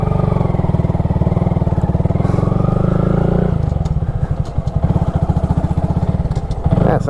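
A 2022 Honda Grom motorcycle ridden close by, its small single-cylinder engine putting out a steady buzzing drone that shifts into a choppier, pulsing note partway through, with a voice talking over it.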